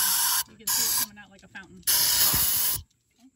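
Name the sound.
throttle body cleaner spraying through idle control valve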